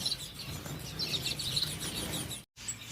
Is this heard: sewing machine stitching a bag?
no